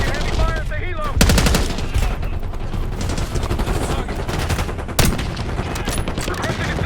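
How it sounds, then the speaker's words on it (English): Rapid bursts of automatic gunfire crackle continuously in the video game Call of Duty: Black Ops 6, with a couple of louder shots standing out, dense and close over a noisy background. "We've got gunfire to the right."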